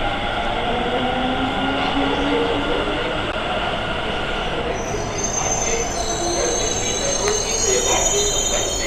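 A train rumbles steadily with high metallic wheel squeals rising partway through, loud and continuous as it pulls into a station in India.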